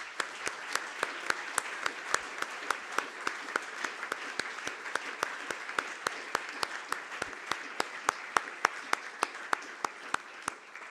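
Audience applause at the Tatra Summit conference, a steady wash of clapping from a hall crowd with crisp individual claps standing out, sustained at even strength for the whole stretch.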